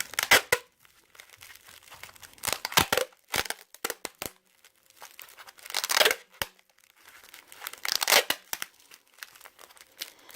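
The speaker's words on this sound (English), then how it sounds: "As I keep moving down, I'm going to pull the tape harder to make it tighter as I go down." Tape stretched and pulled tight while wrapping an arrow, heard as intermittent close crackling, tearing rasps in bursts separated by near silence, with no talk.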